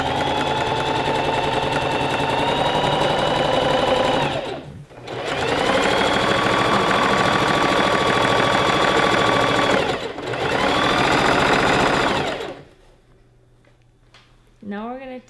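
A sewing machine zigzag-stitches front and back maxi skirt panels onto their liner across the top edge, running in three long continuous bursts with brief pauses, loud and close, then stopping into near quiet with a faint voice at the end.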